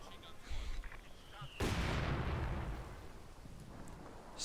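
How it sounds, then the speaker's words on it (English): Mortar fire in Company of Heroes 2: a heavy explosive blast lands midway and rumbles out over the following seconds, preceded by smaller distant thuds and battle noise. "A lot of mortar fire"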